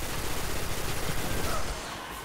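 Dense, continuous gunfire in the sci-fi shooter Destiny during a Nexus Nightfall strike, a steady crackling barrage of weapons all firing at once that drops slightly in level near the end.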